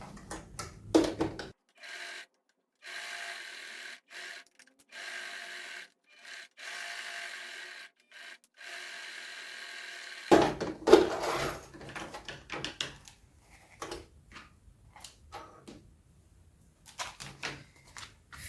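A domestic sewing machine stitches a seam on a men's toiletry bag with a front pocket, running in short mechanical bursts separated by pauses and a longer stretch of near silence, with a few handling knocks.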